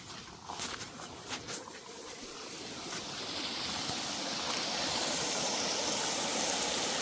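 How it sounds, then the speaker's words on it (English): Rainwater pours out through the outlet of a water tank after heavy rains, a steady, broad rushing flow that builds to a fuller, constant roar, heard nearby. "I'll show you the outlet, how the water is going."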